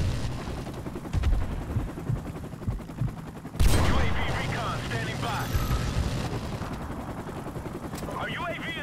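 Gunfire in Modern Warfare Remastered, a sharp loud burst at mid-clip set among busy battle noise and scattered shots, with a player talking over it throughout.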